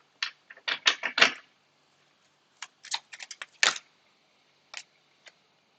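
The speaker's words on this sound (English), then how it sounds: "Get some more cards out" Tarot cards being taken out and handled, giving quick clusters of crisp, close flicks and shuffling snaps in short bursts with quiet gaps between them.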